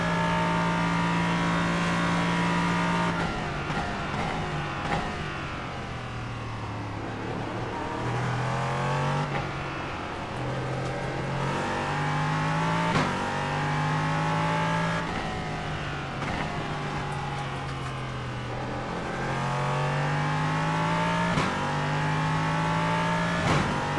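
Race car engines at Le Mans, held at high revs with repeated pitch drops and climbs through gear shifts and corners, loud and continuous for the whole stretch with no talk.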